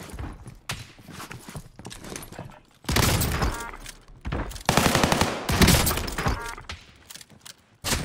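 Bursts of rapid gunfire from weapons in Call of Duty Warzone on Rebirth Island, loud and close, with double barrel shotgun blasts among sharp repeated shots and short quiet gaps between volleys.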